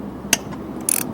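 Ratchet wrench cracking loose the muffler bolts on a Briggs & Stratton engine of a Craftsman 3400 PSI pressure washer, heard as a sharp click followed by a short burst of rapid close clicking.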